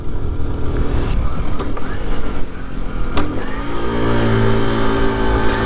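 A 1997 Honda C50 small motorcycle engine runs loud and close, its note climbing as it revs harder toward the end.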